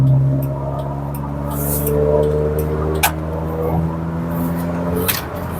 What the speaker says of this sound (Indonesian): Oke, kita overtake.